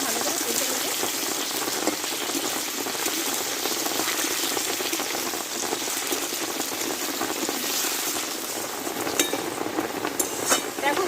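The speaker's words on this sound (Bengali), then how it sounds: "আমি গাঠি কচুটা ভালোভাবে আমি কষে নিয়েছি" Pieces of gathi taro fry in hot oil seasoned with salt and turmeric, giving a steady, dense crackling sizzle that stays loud and close for the whole stretch with no voices.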